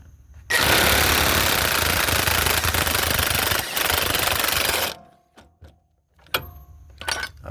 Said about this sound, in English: But of course, I'm gonna try impacting first.